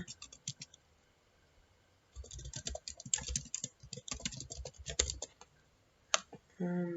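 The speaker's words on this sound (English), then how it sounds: "I'll just type in my Gmail account" Quick keystrokes on a computer keyboard while a Gmail account is entered, arriving in close, uneven bursts of clicks with short pauses between them.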